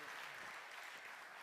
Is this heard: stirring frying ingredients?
no